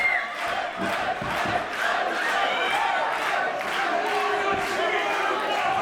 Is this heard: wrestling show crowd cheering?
yes